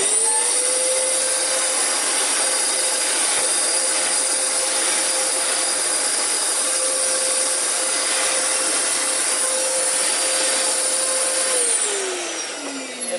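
A Dyson DC14 upright vacuum cleaner runs steadily and loudly with a constant motor whine and airflow hiss, then begins spinning down near the end.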